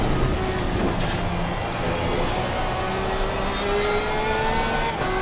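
Racing car engine revving in a sim racing game, a steady loud drone with rising and falling rev tones and tyre noise running continuously throughout.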